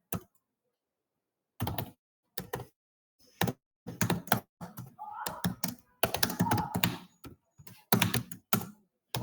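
Fingers type C code on a computer keyboard in bursts of rapid close clicks and clacks, separated by short pauses of near silence.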